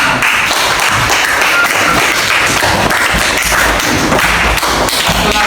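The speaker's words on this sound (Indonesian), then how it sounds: "Tepuk tangan." Loud, close applause in a classroom, with rapid, dense claps and thumps that stay at one level the whole way through.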